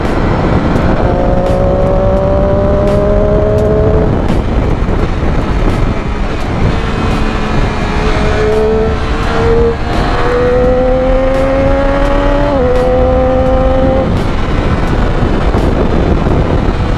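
A 2015 Triumph Daytona 675R motorcycle taken through a corner, its engine droning steadily with pitch rising and falling through the gears, loud and close under heavy wind rush, with no talking.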